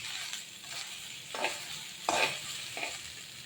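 Okra (bhendi) sizzles and fries in a pan at close range, with a steady crackle and several short bursts of stirring scrapes, and no one speaking.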